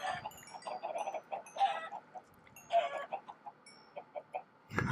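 Chickens in the Minecraft game let out a few clucks, short nasal bursts spaced out over a few seconds against a quiet background, with a thump at the end.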